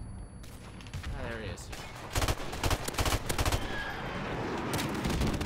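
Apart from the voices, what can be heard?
gunfire in the video game Call of Duty Modern Warfare Remastered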